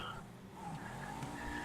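A sports car in GTA Online slides through corners with continuous tire squeal and engine roar, loud and sustained over a driving game soundscape.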